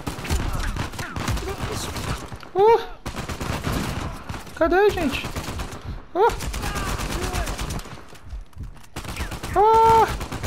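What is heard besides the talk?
gunfire in a video game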